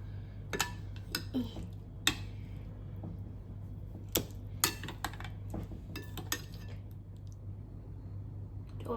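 Hilsa fish for steamed bhapa ilish being rubbed with spice paste in a dish, with scattered small clicks and clinks of utensils against the dish over a steady low hum, fairly quiet and close.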